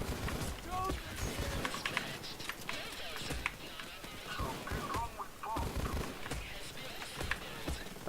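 Akimbo Judge shotguns fire in Payday 2 as a rapid string of sharp, punchy game blasts with brief gaps between bursts, sitting under near-constant commentary from a talking player.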